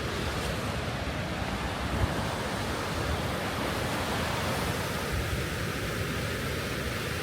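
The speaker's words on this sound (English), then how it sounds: "It's an overdose of waterfalls." An Icelandic waterfall roars as a dense, steady wash of falling water, loud and unbroken from start to end, with some wind buffeting the microphone.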